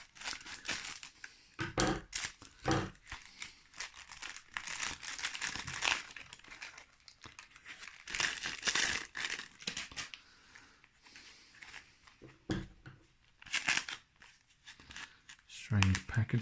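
Plastic crinkling and tearing in repeated bursts, close up, as a plastic mail parcel from China is pulled open, with a person talking in between.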